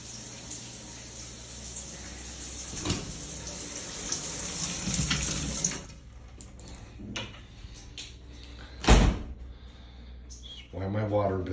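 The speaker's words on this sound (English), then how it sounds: "Showers on." An indoor shower runs with a steady, hissing spray for about six seconds, then cuts off, leaving quieter room noise broken by a few knocks and thumps.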